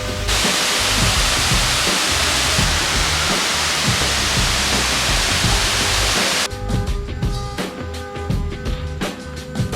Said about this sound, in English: What a waterfall. Waterfall Nauyaca.